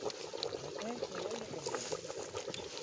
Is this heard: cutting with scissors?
no